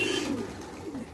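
Pigeons coo softly inside a coop, a low steady murmuring call that carries on for about a second with no voices.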